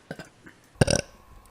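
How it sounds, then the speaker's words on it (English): A woman lets out a loud, drawn-out burp with a rough, bubbly rasp, following two short soft vocal sounds, then fades to quiet room tone. "Burp. Burp."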